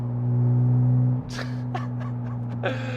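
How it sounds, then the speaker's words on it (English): Steady low engine drone from a Porsche GT4RS fills the cabin, a loud continuous hum that dips slightly halfway through while brief faint voice-like sounds appear over it. "I've got that resonance protruding into the cabin constantly"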